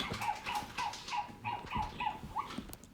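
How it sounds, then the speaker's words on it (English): Toy robot dog in guard dog mode giving a run of short, repeated electronic barks at close range, fairly loud, with no voices over it. "He always gets scared when dog is barking."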